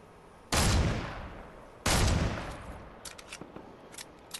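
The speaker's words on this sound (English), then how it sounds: "somebody's up there shooting at him" Two sharp, loud gunshots from a shooter firing from high ground in a video game, each with a long decaying echo, followed by quieter scattered distant pops.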